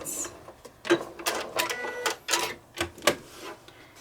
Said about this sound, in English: I'm just going to keep turning and stitching my circle.